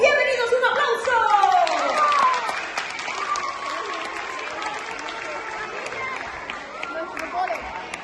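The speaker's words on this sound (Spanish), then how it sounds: "¡Bienvenidos! ¡Un aplauso!" Audience applause welcoming circus and theatre performers at an arts day event, a crowd clapping and cheering. Voices and babble mix in at first, then the clapping settles into a steady, moderately loud wash.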